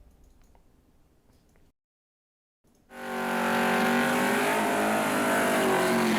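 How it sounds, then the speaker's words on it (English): A Chevy Camaro race car launches hard after a short silence, its engine roaring loud and close with rising revs that hold steady at high volume. "Decker's Camaro leaving hard"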